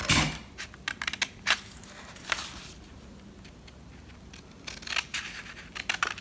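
Scissors snip through paper for an Easter basket craft: a close series of crisp, irregular cuts and crinkles, with quieter gaps between bursts and no talking.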